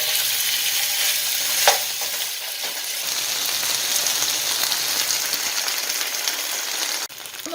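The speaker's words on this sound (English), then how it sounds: "we are going to be cooking the meat in the skillet" Beef pieces fry in a skillet for a pepper steak stir-fry, giving a steady, close sizzle with one sharp utensil clink early on and a knock near the end. No one speaks.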